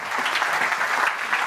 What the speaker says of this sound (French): Et la salle vous applaudit pour vous accompagner.